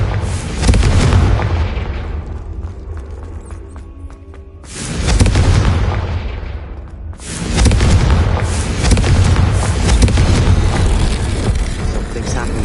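Confringo fire spell blasts in the Hogwarts Legacy video game: heavy booming explosions in three loud, sustained waves with brief dips between, close and dominating.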